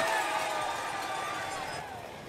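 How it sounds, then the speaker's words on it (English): A roadside crowd roars loudly and continuously for cyclist Jack Bobridge as he rides through during a race, the cheering sustained and close, fading slightly toward the end. "The crowd roar him through."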